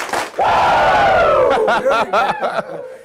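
A high school basketball crowd at Madison County versus Maclay yells and cheers, with one long, loud sustained shout followed by a burst of choppier whoops and hollers; no distinct clapping stands out.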